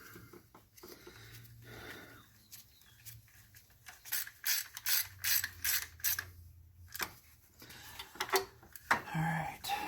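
Ratchet wrench clicking as it tightens a 10 mm bolt during alternator replacement on a 2010 Honda Crosstour, a run of quick close ratcheting bursts in the middle with quieter handling noises before and after.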